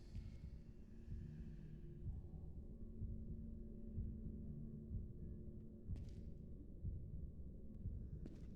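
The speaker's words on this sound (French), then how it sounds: "J'essaie de comprendre pourquoi j'entends les battements de cœur." Low, muffled heartbeat throbbing steadily beneath a constant droning hum in the horror game Boris and the Dark Survival, faint and continuous throughout with a couple of brief clicks.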